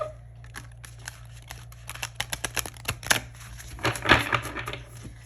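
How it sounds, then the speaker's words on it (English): Playing cards being shuffled from a stiff, hard-to-shuffle deck, heard as a run of close, crisp riffling snaps and flicks that grow denser and louder toward the end. "This deck is so hard to shuffle."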